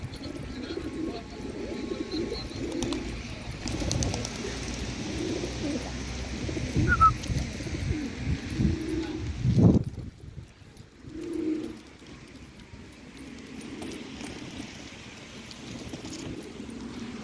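Pigeons coo softly and repeatedly in a loft, low throaty calls rising and falling over a faint background hum, with a louder flutter-like burst midway and quieter cooing after.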